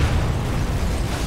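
Explosion in Sniper Elite 4, a satchel charge detonating during a port bombing mission, heard as a sustained loud low-frequency blast and rumble with no speech over it.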